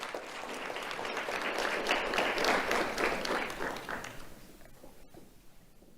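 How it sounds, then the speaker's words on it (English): Audience applause at an awards ceremony, a dense burst of clapping that swells, holds for a few seconds, then fades out. "Let's have a round of applause for Mateo and Grayson."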